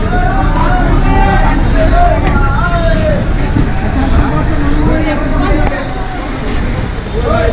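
A traffic jam outside Rajshahi railway station in Bangladesh: loud, continuous rumble of buses and cars mixed with a dense babble of many nearby voices, with a brief dip near the end.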